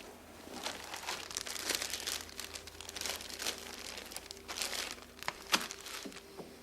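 A plastic bag crinkles and rustles continuously, rising and falling in loudness with a few sharper crunches as it is handled close by, with no talking.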